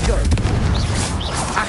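Confringo, the fiery explosive spell from the video game Hogwarts Legacy, goes off as a dense, booming blast with a deep rumble throughout, while a voice speaks over it.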